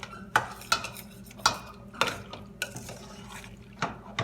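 Spoon stirring pectin into hot fruit for pluerry jam in a metal pot, giving a series of distinct scraping clinks against the pan at irregular intervals, close and moderately loud with no talking.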